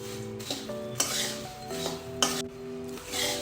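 Spiced dhani mamra chevda, a dry snack mix of puffed jowar and puffed rice with sev, being stirred in a pan, giving a few brisk rustling, scraping strokes over a steady tonal hum.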